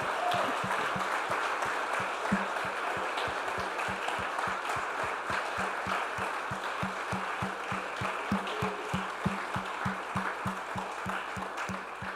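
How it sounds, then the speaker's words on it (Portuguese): Church congregation applauding during a worship service, a long, steady round of clapping heard at a distance with a regular rhythmic beat running underneath, fairly soft throughout. "Se você foi abençoado por Deus, dê um aplauso a Ele."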